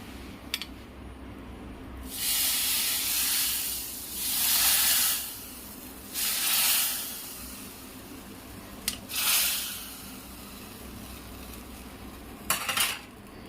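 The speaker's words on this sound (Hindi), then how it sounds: "अब तड़का लगाऊंगी।" Bursts of hissing sizzle rise and fade several times as spices hit hot oil, with a few sharp clinks of a utensil against a pan.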